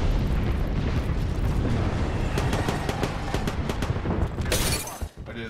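Thrown bombs in Apex Legends explode in a dense, roaring rumble of blasts with crackling debris, a loud sustained barrage ending in a sharp burst before it cuts off.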